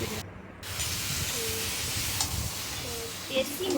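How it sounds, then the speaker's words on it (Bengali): Mutton sautés with chili powder and spices in a hot pan, giving a loud, steady hiss of sizzling and steam up close, with a few faint scrapes. "দেখো, এখানে আমি মাটনটা কষাচ্ছি এখন।"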